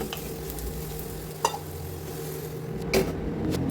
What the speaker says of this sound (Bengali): এবার কড়াতে তেল দিয়ে আলুটা ভেজে নিচ্ছি